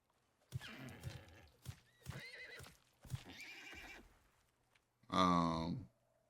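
A horse in the Icarus survival video game neighs, snorts and whinnies through several short bursts, ending in one loud, long neigh close by.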